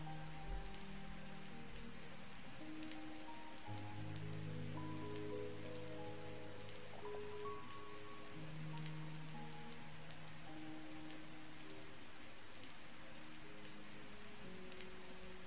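Rain in the city-building game TheoTown, a steady, soft patter of raindrops running throughout under sustained musical tones, quiet and continuous with no voices.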